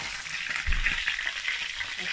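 Fish fries in hot oil with a dense, steady sizzle and bubbling, close and continuous, with one soft thump partway through and no talking.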